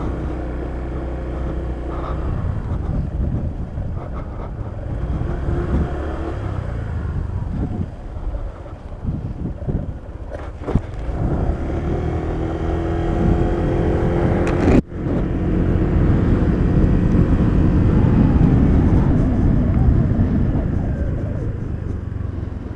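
A 2015–2018 Honda PCX 150 scooter ridden on a highway at night, its steady engine drone mixed with heavy wind rush, passing traffic and a couple of brief knocks, continuous and close throughout.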